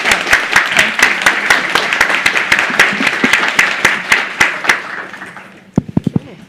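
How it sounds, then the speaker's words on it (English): An audience applauds a panel at a journalism festival session: a dense round of clapping that slowly thins and fades, followed by a few louder, nearby individual claps at the end. No one speaks. "Let's give a round of applause."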